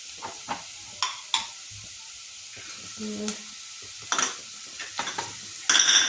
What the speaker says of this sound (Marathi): आता सर्व भाज्या मिसळून घेऊयात